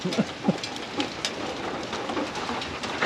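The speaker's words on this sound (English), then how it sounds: "Cold and hail and rain and sleet and just miserable nasty." Rain mixed with hail and sleet pelts a roof in a steady dense roar, with a few sharper louder pattering hits near the start and no voices.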